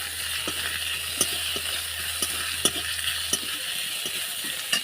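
Bay leaf frying in hot oil in a pan gives a constant fine sizzle, with a spoon or spatula stirring and occasionally tapping the pan in a few sharp knocks.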